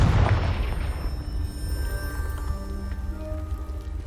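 Confringo blasting spell in Hogwarts Legacy blowing apart a pile of debris: a sharp, heavy boom at the start that rumbles and decays over a few seconds.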